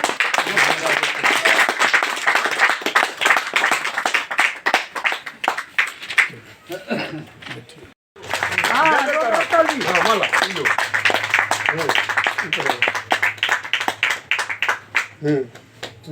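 Loud crowd clapping at a gathering at a party leader's residential office, dense rapid claps with a brief pause midway, while voices talk over the second half.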